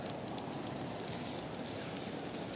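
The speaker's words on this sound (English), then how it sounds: "The rain is coming down pretty heavy." Heavy rain pours down outdoors on a Friday night in Blackpool near Manchester Square, a steady, dense hiss of drops striking pavement and surfaces that continues unbroken with no voices.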